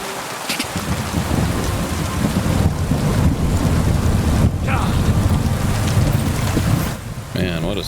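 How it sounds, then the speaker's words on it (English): Heavy thunderstorm in the medieval open-world game Kingdom Come Deliverance 2, with steady loud rain and rolling thunder filling the whole stretch, brief lulls near the end; a voice comes through faintly over the storm. "Man, what a storm."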